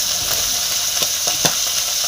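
Fish frying in a pan, a loud continuous sizzle with a few short crackles and stirring scrapes rising above the hiss.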